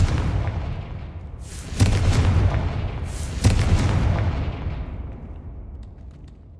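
Two loud, booming Confringo spell blasts from the video game Hogwarts Legacy, roughly a second and a half apart, each with a long rumbling decay. No voices are heard.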